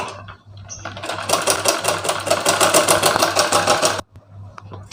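A sewing machine stitches lining cloth onto blouse fabric in a rapid, steady run of needle strokes for about three seconds, close and fairly loud, then stops abruptly, leaving a low background hum.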